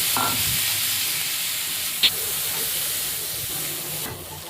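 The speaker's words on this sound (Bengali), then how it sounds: "আলুগুলো দিয়ে দেবে আলুগুলোও ভালো করে ভেজে নেবে" Even, constant sizzling of potatoes frying in hot oil, with a soft clack or two of a utensil partway through.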